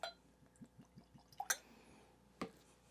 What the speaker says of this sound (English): Pour just a wee bit, just a wee dram.